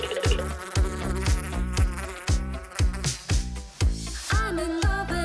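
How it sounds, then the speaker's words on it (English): A cartoonish giant bee buzzes in an animated Poppy Playtime game. The loud, droning buzz pulses in a steady rhythm for several seconds with no talk. "Is it a bird? A giant bee!"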